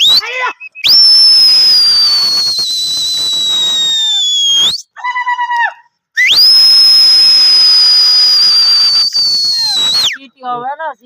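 A loud, piercing steam whistle blasts twice in Punjab, each long shriek riding a hissing rush of steam, separated by brief chirpy bursts, with no talk over it.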